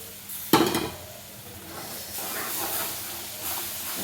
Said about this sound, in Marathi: साखरेचा पाक साखर हे करून घेतलेलं आहे ना ते याच्यामध्ये घालून पूर्ण घालून घ्यायची